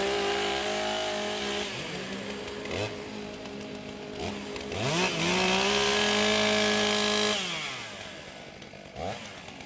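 STIHL chainsaws warming up at a women's timbersports championship in Australia, several saws revving up and down in overlapping loud bursts, rising and falling whines filling the air.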